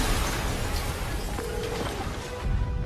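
A huge explosion in the Marvel's Spider-Man video game, a dense roaring rumble with crashing debris that fills the whole stretch at steady loudness, with no voices.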